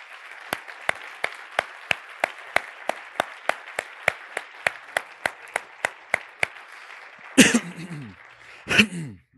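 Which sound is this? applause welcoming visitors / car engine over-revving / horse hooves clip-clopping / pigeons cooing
applause welcoming visitors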